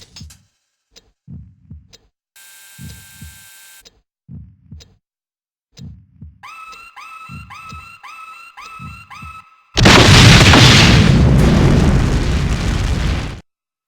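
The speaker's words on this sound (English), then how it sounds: "I think we're done watching that explosion now" A large explosion in the PS1 video game Suzuki Bakuhatsu erupts as a sustained, loud roaring blast of several seconds, preceded by rhythmic heartbeat-like thumps and a burst of rapid electronic beeps.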